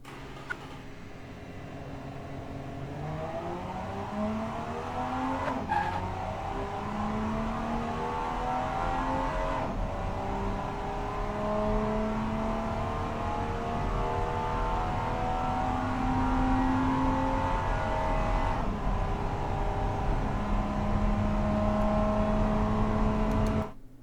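A 1960 Marina Flare in the Automation car game accelerates hard from a standstill, wheels spinning, the engine rising steadily through several gear changes over about 24 seconds with no talk.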